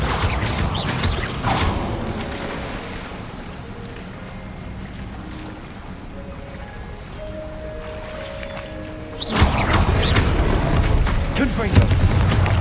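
Bombarda spell explosions in Hogwarts Legacy, heavy booming blasts with whooshes at the start and again near the end, separated by a quieter stretch of low rumble and mechanical tones.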